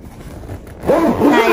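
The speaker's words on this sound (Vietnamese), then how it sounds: "Hai khóa kéo cũng xịn lắm, kéo cũng nhẹ tay lắm" A travel bag's zipper is pulled along its track, a close, smooth scraping slide that swells over the last half of the moment after quieter rustling.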